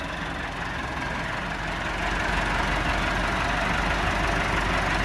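A brand-new Massey Ferguson MF 375 75 HP tractor with a front loader runs its diesel engine steadily, then revs up and holds a louder, rougher roar close by, with no talking.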